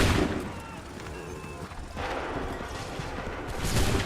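Musket volleys crack out in a Revolutionary-era battle in Assassin's Creed 3, with loud rough bursts at the start and end over a dense rumbling clamor.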